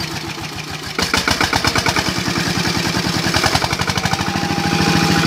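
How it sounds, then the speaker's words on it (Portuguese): A Tobata walking tractor's engine, smoky and hard to start, catches after a brief rough stretch and settles into a loud, close, rapid rhythmic chugging that keeps running steadily. "depois de 2 horas, a tubata pegou"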